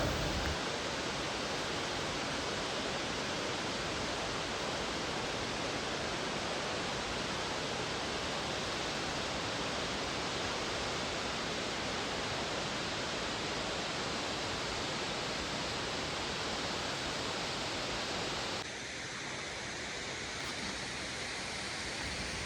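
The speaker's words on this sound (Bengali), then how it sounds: "যেখানে জলটা সোজাসুজি ওপর থেকে নিচে নেমে আসছে" Waterfall near Kausani, where water drops straight down, gives a loud, unbroken roaring rush that fills the whole span and eases slightly near the end.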